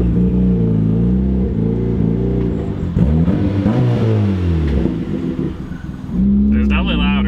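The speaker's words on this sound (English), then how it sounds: "I like the volume of the exhaust with it open." A turbocharged Mazda Miata with a newly built, untuned exhaust revs and pulls on a test drive, a loud close engine drone rising and falling with gear changes while a person talks over it.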